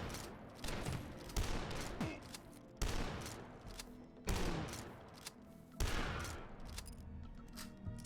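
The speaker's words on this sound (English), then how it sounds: "let's use the super shotgun instead" Super shotgun blasts in the video game Dusk, five heavy booming shots spaced about a second and a half apart, each trailing off before the next, with fainter game noise between.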